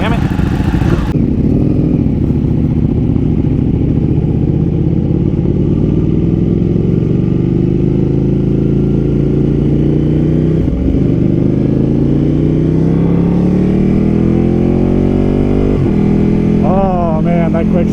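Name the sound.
Ducati Panigale motorcycle accelerating, quick shifter gear changes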